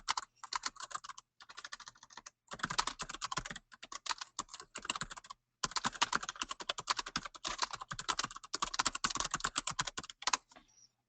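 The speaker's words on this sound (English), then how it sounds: "So I'm just going to type in for an occupational therapist." Rapid typing on a computer keyboard entering therapy notes, close and clear, in bursts of quick key clicks separated by short pauses.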